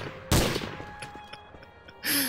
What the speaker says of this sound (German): Und ich schieße ihn auf die Füße.